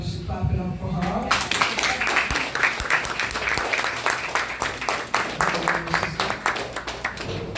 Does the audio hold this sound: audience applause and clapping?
yes